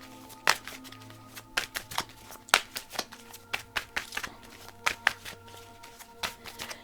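Tarot cards shuffled by hand, giving a quick run of sharp, close slaps and papery flicks in an uneven rhythm, with no voices.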